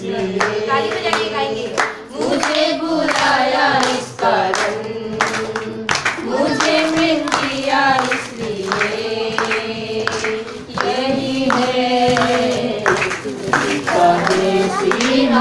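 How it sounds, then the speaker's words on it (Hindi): A group claps steadily in rhythm while singing a Hindi devotional song together at a house-inauguration gathering. The claps are loud and continuous beneath the voices. "ताली बजा के गाएंगे"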